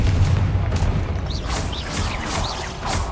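Spell-casting effects and blasts from the Hogwarts Legacy game: a low rumbling bed with several short whooshing, chiming magical bursts spaced across the clip, moderately loud and without talk.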